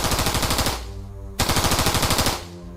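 Rapid machine-gun fire for a battle scene with a soldier charging at rebels: two loud, fast bursts of shots separated by a short pause, with no voices over them.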